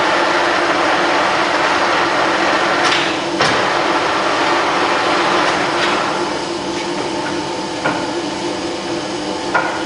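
Colchester Triumph 2000 lathe running at its lowest spindle speed, a steady mechanical hum and whir with a few sharp clanks and knocks, fairly loud and close, no talk.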